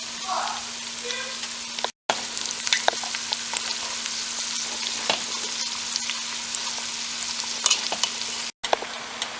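Beans being spooned into a sauce in a pan for a fried beans dish, with a constant sizzle and steady hum, scattered soft clicks and scrapes of stirring, and two brief dropouts.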